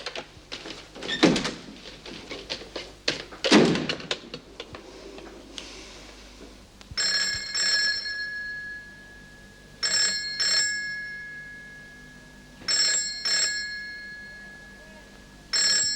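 An old-style telephone bell rings in repeated double bursts in a prison setting, starting after a stretch of louder knocks and bumps, fairly clear and near with no talk over it.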